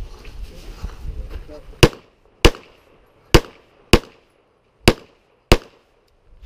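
Six sharp pistol shots crack one by one at an IDPA shooting match, spaced about half a second to a second apart, loud and close, following a stretch of low background noise.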